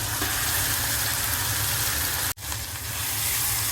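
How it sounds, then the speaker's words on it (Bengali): Boiled, deboned rohu fish pieces added to a hot pan produce a dense, steady hissing fry with a low rumbling undertone, briefly interrupted by a sharp cut before the sizzle continues. "এখন দিয়ে দিচ্ছি মাছগুলো কাটা বেছে রেখেছি।"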